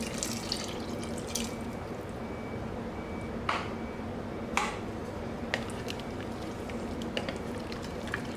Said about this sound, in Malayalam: ഇനി നമുക്കിതിലേക്ക് നല്ല കട്ടിയുള്ള 1 പാൽ ഒഴിച്ച് കൊടുക്കാം.